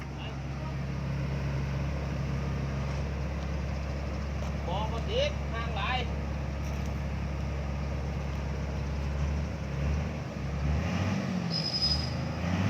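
A Caterpillar CAT 320D excavator's diesel engine runs loud and close while the machine lifts itself onto a trailer, a steady heavy drone with a deep low rumble throughout, and voices sound faintly underneath.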